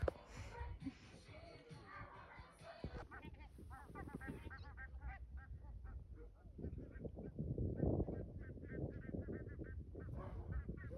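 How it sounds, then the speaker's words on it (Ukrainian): Gulls call over and over at a nesting colony in Svalbard, set beside sled dogs in the Arctic summer, their harsh honking cries overlapping close by while a voice talks in the background. "ці чайки гніздяться поруч з собаками, е, тому що тоді до них не підходять полярні лиси або ведмеді"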